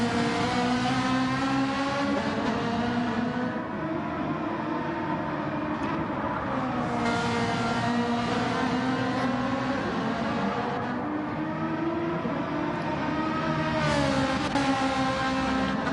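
Race cars in an online racing video game sweep through a final chicane onto the start-finish straight, engines droning loudly and continuously, pitch dipping under braking then rising again as they accelerate away.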